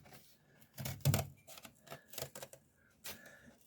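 Scissors snip through a traced cardboard pizza template in a run of irregular crisp cuts and rustles, close and fairly quiet, with no talking.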